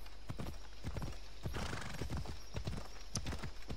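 Steady clip-clop of horse hooves on a hard surface in the video game Assassin's Creed Odyssey, a quick regular trotting rhythm with a brief whinny-like burst partway through.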